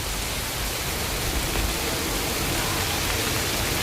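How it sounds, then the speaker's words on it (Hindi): Heavy rain pours down over a town bus stand in Ashoknagar, India, a dense, even hiss that stays loud and constant throughout, with no voices. "बहुत शानदार बारिश, बहुत दिनों बाद हुई।"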